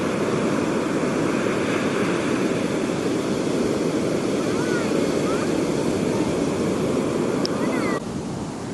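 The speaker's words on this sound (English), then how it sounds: "But the waves are big." Big surf washes steadily onto Calangute beach in Goa, a loud continuous roar of breaking waves with wind buffeting the microphone, and a few faint distant tones near the end.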